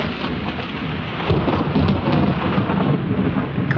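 A steady, dense thunderstorm of heavy rain with deep rumbling thunder rolling underneath, loud and continuous throughout with no pauses or voices.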